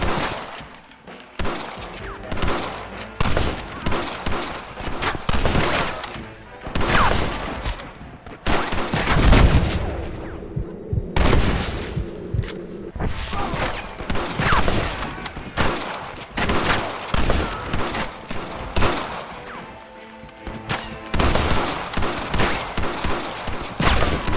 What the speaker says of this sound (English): Shooting over there.